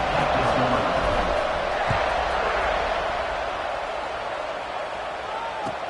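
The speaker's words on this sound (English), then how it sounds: "this crowd is feeling themselves after that last drive" A large football stadium crowd roars during a college game, Michigan at Arkansas, a dense, steady wash of cheering that fills the whole stretch and fades slightly toward the end.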